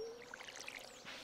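Watering can sprinkling crops in Stardew Valley, a soft splashy pour with light droplet patters over about a second, quiet and close, ending in a brief wash of water.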